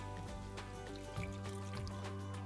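Maggi devilled sausages mix pours into a pan, a soft, steady liquid glug and trickle close by, with a few faint clinks over a low constant hum.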